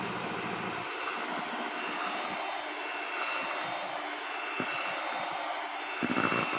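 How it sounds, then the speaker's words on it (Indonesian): An electric hand mixer whirring through cake batter for a Bengkalis-style checkerboard sponge cake, a steady high motor whine with a constant pitch and a grainy, slightly fluctuating churn underneath, running without pause. "Dan ini terus di mixer ya hingga rata"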